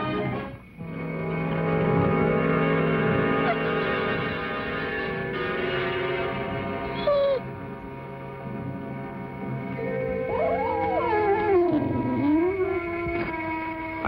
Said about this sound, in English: I heard a sound, like an animal in pain, whimpering.